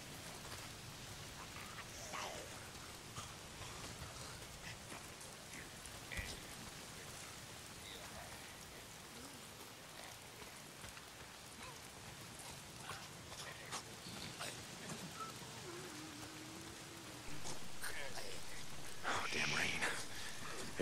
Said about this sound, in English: It's not the freaks, it's the goddamn rain.